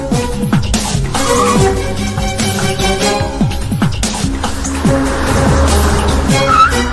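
A car driven hard and fast, its tyres squealing and skidding repeatedly through sharp turns, in a Telugu film action scene. Engine and squeals stay loud and continuous, mixed with a steady tonal backing throughout.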